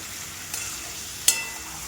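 Chicken pieces with spices frying in a pan as they are stirred, giving a soft steady sizzle broken by a couple of quick scraping knocks from the spoon, with no talking.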